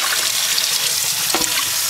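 Water runs steadily from a tap while tie-dyed yarn is rinsed, a constant close hiss and splash with a brief splashier spot near the end.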